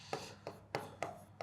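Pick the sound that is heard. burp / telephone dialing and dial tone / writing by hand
writing by hand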